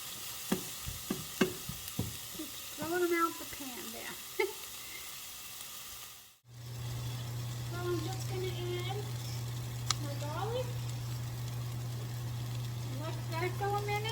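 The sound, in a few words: food frying in a pan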